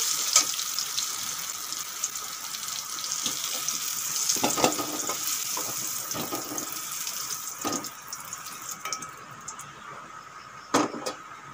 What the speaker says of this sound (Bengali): কুমড়োগুলো ভালো করে ভেজে নিয়েছি, এখন তুলে নেব।